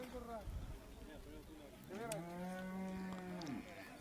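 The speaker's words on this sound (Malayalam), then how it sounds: "ഇന്ന് ധാരാളം ഇതേപോലെയുള്ള കാളക്കുട്ടന്മാർ ധാരാളം വന്നിട്ടുണ്ടായിരുന്നു" Bull calves at a busy cattle market let out a long, loud moo after shorter lowing calls, with people's voices in the background.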